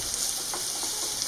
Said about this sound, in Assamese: তাতে মই 2টা কাটি থোৱা পিঁয়াজ দিছোঁ আৰু অলপ সময়ৰ বাবে ধুনীয়াকৈ